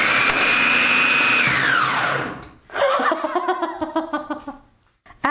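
Black and Decker 8-cup food processor fitted with a slicing blade, a loud high motor whine that spins down after about two seconds, followed by chattering and rattling as it slows.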